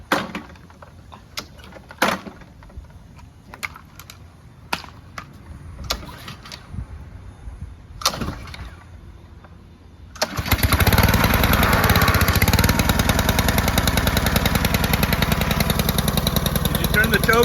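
A small Honda engine with a choke is pulled several times with sharp clatters and knocks, then at about ten seconds it catches and runs with a loud, steady, close drone. Brief talk comes before it starts.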